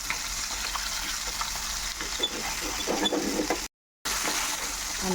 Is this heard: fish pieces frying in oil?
yes